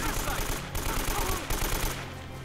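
Rapid automatic gunfire in the Uncharted video game rattles out as a steady, dense burst of shots lasting a couple of seconds, loud and close with no voices over it.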